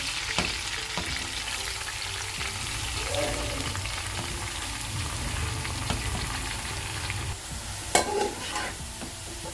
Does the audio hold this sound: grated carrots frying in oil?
yes